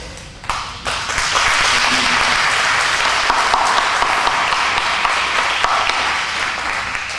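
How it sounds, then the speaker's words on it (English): A steady round of audience applause rises sharply after a brief pause and holds at full strength, dense clapping throughout with no talk over it, honoring sheriff's office employees at a candidates' event for Tazewell County sheriff. "That applause goes to them."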